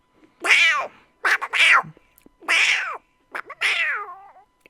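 A cat meows repeatedly at close range, four loud, drawn-out, wavering cries with short chirps between them, clear and alone against silence.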